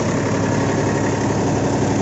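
A tractor engine runs steadily at about 1200-1300 rpm while driving an NJT multicrop thresher during cumin threshing, a loud continuous drone with mechanical rumble and no pauses.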